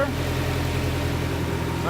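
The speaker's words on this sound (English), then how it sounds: "It's idling better." A car engine idles with a steady low rumble, running continuously at a close distance with no other sounds over it.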